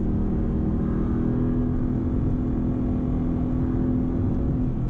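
Steady, loud V8 engine of a Mercedes-AMG GT S under acceleration, a continuous deep rumble with strong low harmonics that holds level throughout with no talking.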